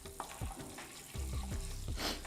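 Whole spices, clove and cardamom among them, sizzle in hot butter with a soft frying crackle and a few quick stirring knocks in a short, close burst.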